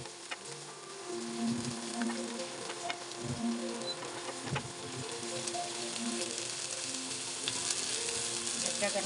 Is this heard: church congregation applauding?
no